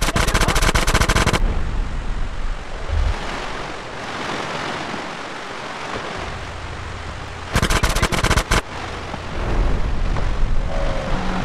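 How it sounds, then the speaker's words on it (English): Gunfire in GTA San Andreas: a loud burst of rapid automatic shots, then a quieter rumbling stretch, then another sharp burst and a rising roar near the end. "A gun."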